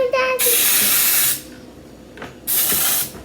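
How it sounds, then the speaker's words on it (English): Cooking spray hissing into a baking pan in two long bursts separated by a pause, loud and close, with a brief voice at the start. "Let me spray it."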